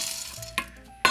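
A utensil stirs butter and chocolate melting in a pan on the stove, soft scraping and light sizzle close by with two brief sharper clinks, no talking.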